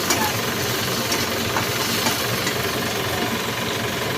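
Kitchen chimney motor running during lentil cooking, a steady loud broadband whir with rough mechanical texture, continuous and close throughout.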